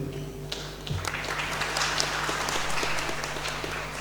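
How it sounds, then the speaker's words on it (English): Audience at an international university symposium applauds a keynote speaker, with steady, dense clapping from a sizable crowd in a hall, moderately loud and sustained for about four seconds. "Give a round of applause to him."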